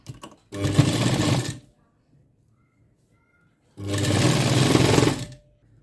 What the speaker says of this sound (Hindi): और अब हम यहाँ पर एक सिलाई लगाएंगे।